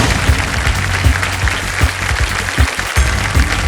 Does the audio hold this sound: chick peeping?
no